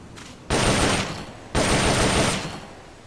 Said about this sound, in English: The M16 is a standard assault rifle, capable of rapid fire.